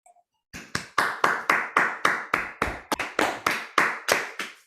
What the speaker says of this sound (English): What is the sound of 4 hands clapping?